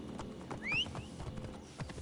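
In Assassin's Creed Origins, a horse's hooves beat a steady clip-clop along a road, close and moderately loud, with a brief high whistling tone cutting across partway through.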